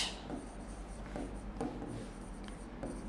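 Quiet scratching strokes of something writing on a board, short repeated scrapes with small pauses, close by with no talking.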